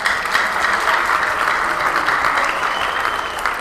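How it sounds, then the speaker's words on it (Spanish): Steady, loud applause from an audience at a Mexican gastronomy forum, sustained evenly throughout the clip with no voices standing out. "Otro aplauso, por favor"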